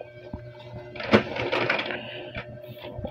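An Epson L120 printer runs a test page, its mechanism whirring and clicking in short mechanical bursts, with a sharp clack near the start and a softer rattle afterward, fairly close.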